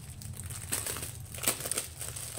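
Plastic packaging from a diamond painting kit crinkles softly at close range during unboxing, with several sharper rustling bursts and no talk.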